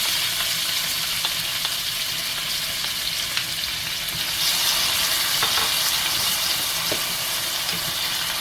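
Hot pepper and garlic fry in a little oil in a pot for ackee and red herring, a loud, close, continuous sizzle with faint stirring scrapes and no talk.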